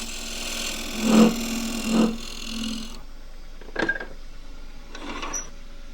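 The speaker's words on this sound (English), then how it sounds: "Now that can be undercut very slightly. Generally use a skew chisel for that." A skew chisel undercuts a wig stand spinning on a wood lathe, giving a few short scraping cuts over the lathe's steady hum. The hum then stops, and brief rubbing and handling sounds follow.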